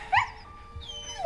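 Dog giving a couple of short high whimpers and whines close by, with a brief pause between them, faint and fairly quiet in an otherwise still setting.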